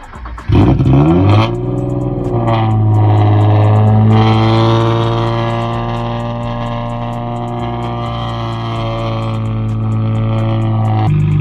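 A turbocharged Nissan 350Z holds a loud, raspy, sustained drone on two-step launch control. It comes after a sharp opening rev and runs close and continuous for about ten seconds with no talk.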